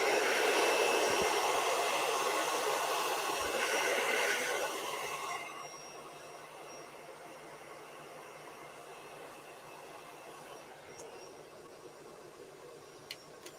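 Handheld hair dryer blowing on a wet painted canvas in an art studio, a steady close whoosh for about five seconds that then cuts to a quieter low hum for the rest.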